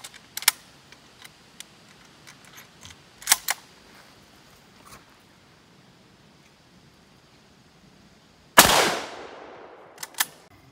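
A Mosin Nagant rifle fires 7.62x54R steel-core rounds at a 1960s Vietnam-era variable body armor plate. A single loud, sharp outdoor gunshot cracks and then decays, with scattered quiet clicks and ticks before it and a small knock shortly after.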